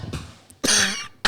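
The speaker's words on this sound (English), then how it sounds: "As soon as he stops coughing." A man coughs in two loud, harsh bursts close to the mic, with a brief quieter throat sound before them and silence between.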